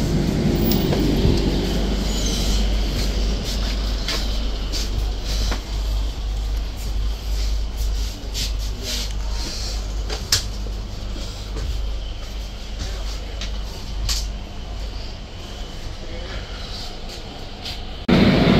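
Rupasi Bangla Express passenger train running steadily, a continuous low rumble and rattle of carriages with occasional clicks and squeaks, heard from inside, loud and constant throughout.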